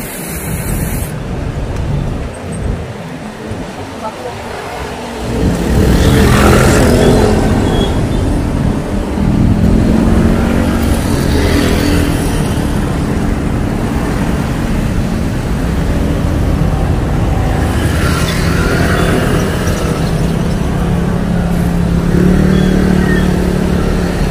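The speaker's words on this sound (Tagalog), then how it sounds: "Hirap lumiko daming sasakyan." Continuous road traffic on a long ride from Manila to General Trias, Cavite, with car and motorcycle engines rumbling and revving nearby, a steady loud wash of passing vehicles filling the whole stretch.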